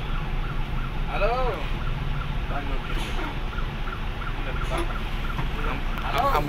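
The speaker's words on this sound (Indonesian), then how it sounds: "ngasih kesempatan ambulan untuk lewat" Ambulance siren wailing in congested road traffic, rising and falling repeatedly at moderate distance over a constant rumble of engines, with occasional voices in the background.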